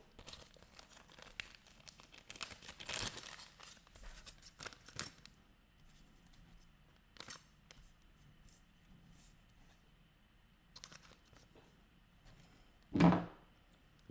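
Small bits dropped back into a little plastic bag, with soft intermittent crinkles and rustles spread over a quiet stretch, then one louder, close crackle near the end.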